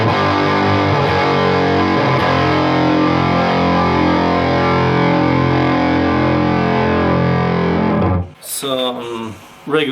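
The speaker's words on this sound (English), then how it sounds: "Some regular old distortion. This is through the Behringer HM300." A Chapman ML3 Pro Triton electric guitar played through a Behringer HM300 distortion pedal grinds out loud, sustained distorted chords for about eight seconds. A voice starts speaking as the notes cut off.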